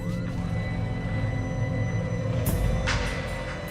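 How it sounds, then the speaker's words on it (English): Ambulance sirens near a Scud missile strike on a coalition base in Dhahran, Saudi Arabia, during the Gulf War, loud and continuous amid a dense rumble of vehicles and crowd noise. "These ambulances has to go up there."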